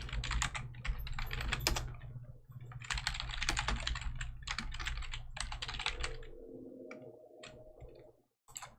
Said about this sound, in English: let me just type it up here